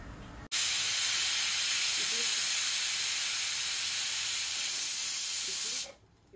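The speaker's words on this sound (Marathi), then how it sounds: "इथे कुकरच्या 4 शिट्या झाल्या आहेत।" A pressure cooker cooking spinach khichdi lets out a loud, continuous hissing whistle of escaping steam, starting abruptly and holding steady for about five seconds before cutting off.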